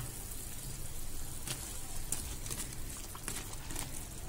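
Fried bread pieces go into boiling sugar water while making bread halwa, giving a quiet, continuous bubbling sizzle broken by a few soft knocks and splashes, with no one speaking.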